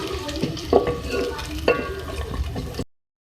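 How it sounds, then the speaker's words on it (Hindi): Two medium onions frying in oil for a green onion beef dish, with a steady sizzle, spoon stirring and a few scrapes against the pan, close and moderately loud. "सबसे पहले मैं ऑयल में 2 मीडियम साइज़ के प्याज ऐड करूँगी, उसको फ्राई करेंगे।"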